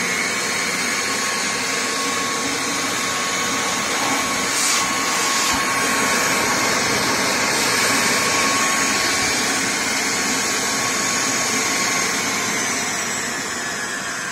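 A homemade central vacuum cleaner runs at its third power setting with a steady, loud whine and rushing airflow that holds constant throughout, a faint tonal hum riding on top, and no speech.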